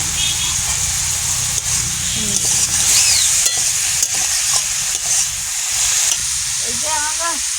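Pond fish frying in a pan and being turned and stirred, a continuous close sizzle with stirring scrapes, while people talk over it.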